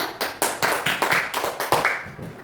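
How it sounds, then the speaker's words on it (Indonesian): Children in a primary school classroom clap for group 1 in short, rhythmic bursts, close and fairly loud, with about a dozen sharp claps over a couple of seconds. "Tepuk tangan dulu untuk kelompok 1."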